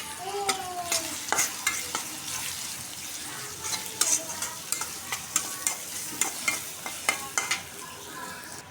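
Onions fry with cinnamon and cardamom in a hot pan beside eggs being browned. A soft sizzle runs underneath repeated sharp scrapes and clicks of a stirring spoon.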